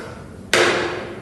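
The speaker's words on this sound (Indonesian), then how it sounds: "diketuk palu sekali." A single sharp gavel knock on a wooden block in a school mock courtroom trial, loud and close, with a ringing decay trailing off afterward.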